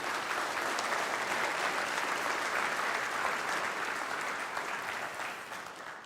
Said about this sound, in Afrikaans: Kom ons gee vir hulle sommer net 'n lekker hande klap op.